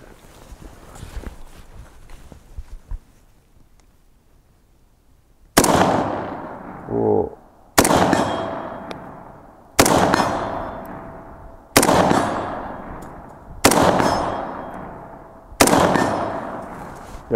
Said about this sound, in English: Let me go back to shooting for a second.